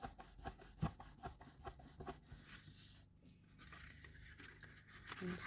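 A folded paper card creased by hand, with a rapid rhythmic scraping rub repeating close by, then a short pause and a lighter rubbing at the end.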